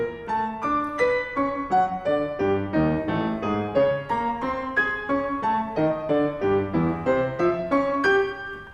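Solo piano playing a melody in two parallel voices, the lines moving together in steady, evenly spaced notes at a moderate, continuous volume with no talking, in a demonstration of 12 Notations by Pierre Boulez.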